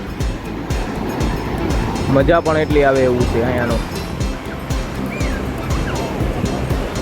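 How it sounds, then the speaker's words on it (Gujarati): Ocean surf rolls in steadily along a Chennai beach, a continuous broad wash of breaking waves close by, with someone talking over it throughout. "ચેન્નાઈના ઉછળીને મોજા આવે છો"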